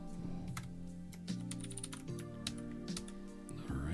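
Computer keyboard typing during a Blazor coding session, a quick irregular run of key clicks, close and fairly quiet, over a low steady hum.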